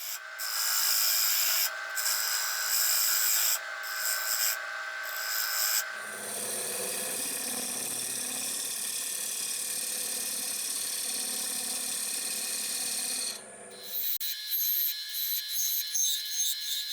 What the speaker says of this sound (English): I will eliminate the excess with the ball gouge